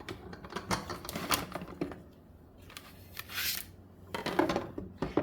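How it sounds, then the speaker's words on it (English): A hand-cranked die-cutting machine with an embossing plate presses and cuts card, making quiet irregular clicks, rattles and ratcheting bursts that pause briefly midway, close and with no talking. "So it will emboss and cut this at the same time."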